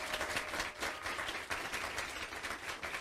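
Audience applause for a singer at a Caribbean Christmas song contest final, sustained steady clapping from a crowd at moderate level, somewhat distant.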